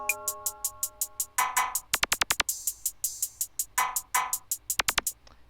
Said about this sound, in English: Then I added a bell.